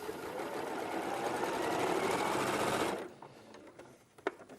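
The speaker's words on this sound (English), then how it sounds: "And I'm going to sew the first seam." A sewing machine runs steadily for about three seconds, stitching a seam through layered fabric patches, then stops, leaving faint clicks and small handling sounds.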